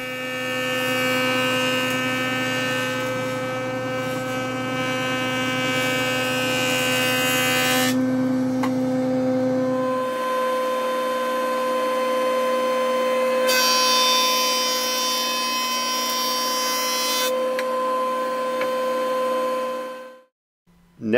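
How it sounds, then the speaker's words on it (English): Jointer squaring one edge of a wood board in a workshop, a steady loud machine whine with strong hum, the pitch shifting partway as the cut ends, then falling silent. "I also use the jointer to square one edge."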